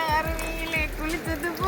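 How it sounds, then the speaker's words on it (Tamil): Water runs steadily behind a forest stream-side spot in the Kolli Hills jungle, a continuous rushing flow with bright trickling tones, fairly close and even throughout, with occasional low thumps under it. "பின்னாடி வந்து தண்ணி ஓடிக்கிட்டு இருக்கு"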